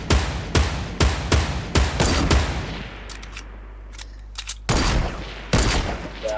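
Sniper rifle fire in a Fortnite squads match: a rapid string of loud, sharp cracks in the first three seconds, a quieter pause with distant pops, then two more heavy shots near the end.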